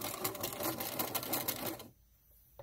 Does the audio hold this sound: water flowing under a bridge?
no